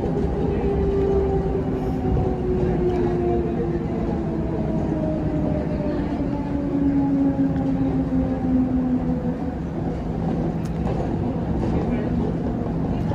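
Steady rumble and hum of a Mumbai monorail train in motion, a continuous near drone with faint tonal whine sliding in pitch as the carriage runs along, mixed with low background voices.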